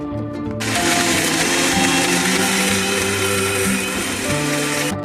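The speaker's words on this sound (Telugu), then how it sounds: "మిక్సీలో కచ్చా పచ్చలా మిక్సీ పట్టుకోవాలి" A mixer grinder whirs loudly as it grinds raw green mango pieces, the motor kicking in suddenly, droning with steady harmonic whine and chopping rattle for about four seconds, then stopping.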